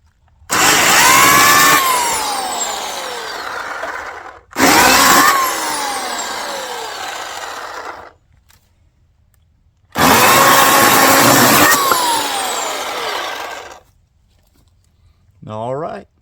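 An electric chainsaw with a newly fitted bar and chain and filled oil reservoir, making a first cut in three loud bursts of whining, loaded motor and chain noise separated by silent pauses, close by, with a short final whir at the end.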